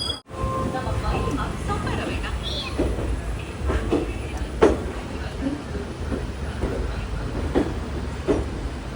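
A train pulls out of Coimbatore in light rain, a steady rolling rumble with soft rhythmic clatter heard from on board, while indistinct voices murmur faintly in the background.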